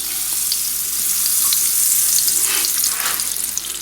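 Pork tenderloin sautéing in olive oil and a little butter gives a steady, loud close sizzle with a fine crackling hiss that swells slightly midway and holds throughout, with no voices.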